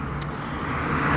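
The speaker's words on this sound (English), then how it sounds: "you hear the cars going by." Cars passing by outside, a steady broad roadway rumble and hiss that swells gently toward the end, heard at moderate distance without talking.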